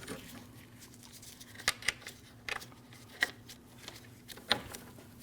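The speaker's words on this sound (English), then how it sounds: "Plug your connector in, wait for your click" A wiring connector snaps into place on a 2014-2023 Jeep Cherokee during radiator cooling fan replacement, a few sharp, close plastic clicks spaced over several seconds against a steady low hum.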